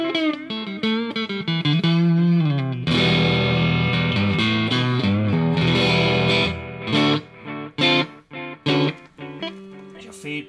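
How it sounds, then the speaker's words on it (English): An electric guitar runs through a Caline Ghost Rain reverb/delay pedal, sustained distorted chords repeating in echoing trails that thin out into spaced, decaying repeats toward the end, loud and close with no talking. "There's your echo coming into it."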